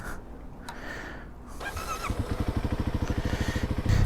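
A Kawasaki KLX-300 motorcycle engine cranks over and catches, settling into a steady close, rhythmic idle thump after a brief starter whine.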